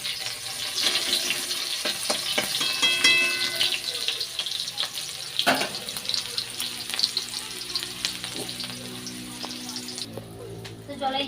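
Onions sizzle and fry in a hot kadai tempered with black cumin, a steady crackling hiss with occasional stirring clinks, close and fairly loud throughout.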